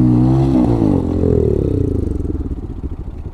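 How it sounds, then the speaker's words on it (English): A Honda Grom motorcycle engine runs loud and close with a ticking fault, revving down from a higher pitch into a rough, pulsing idle with rapid rhythmic ticks. "My bike is ticking a little bit, which is not too great"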